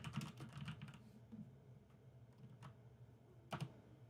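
Quiet keystrokes patter on a computer keyboard in uneven bursts, with a few louder clacks standing out near the end.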